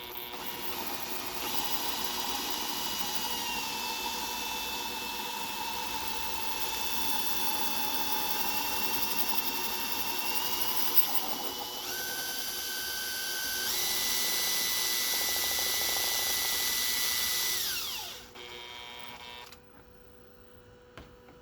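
A drill runs through material with a sustained high whine that shifts pitch as it breaks through, then eases off gently on the back side and winds down near the end.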